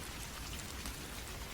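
Steady rain hisses evenly for a horror story set in a deserted village, a soft continuous wash of drops with no voices.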